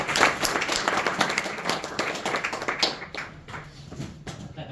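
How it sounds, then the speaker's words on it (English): Audience giving a round of applause at a talk event, brisk clapping from a modest crowd that starts strong and gradually thins and fades toward the end. "Another round of applause to Derek for last minute."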